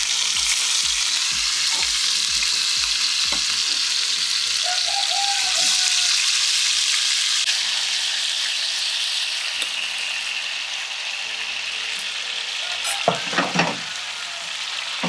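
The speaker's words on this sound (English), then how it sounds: "I don't want to deep fry these potatoes, so it's just a little oil, and then I'm going to add my potatoes" Potatoes shallow-fry in a little oil in a pan, a loud continuous sizzle with some soft knocks early on and a few sharper clatters near the end.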